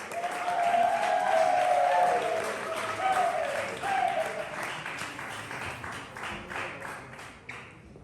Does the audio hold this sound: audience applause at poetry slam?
yes